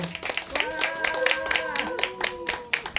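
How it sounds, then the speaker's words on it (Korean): At a community gathering supporting residents protecting a hundred-year-old forest, the crowd claps to welcome a singer, with sharp, evenly spaced claps sounding beneath a speaking or singing voice. "힘찬 박수로 좀 맞아주시기 바랍니다"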